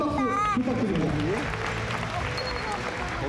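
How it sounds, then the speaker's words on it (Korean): Audience applause at the KBS Entertainment Awards ceremony, a dense wash of clapping from a large crowd that runs through the whole moment, with a voice and some cheering rising over it at the start. "2015년 KBS 연예대상 한국타파로서 김준씨, 박명수씨, 홍준씨 가장 큰 박수 부탁드립니다"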